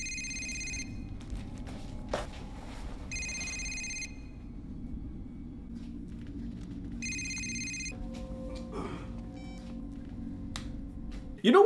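A telephone rings in repeated bursts inside a horror movie scene, the electronic bell tone sounding three times with pauses between, over a low rumbling background, with a louder sudden sound at the very end.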